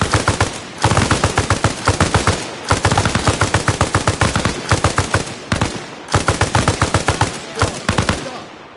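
Squad machine guns lay down suppressive fire in the video game Arma Reforger. Loud, close, rapid automatic bursts repeat in long strings, separated by brief pauses, with no voices.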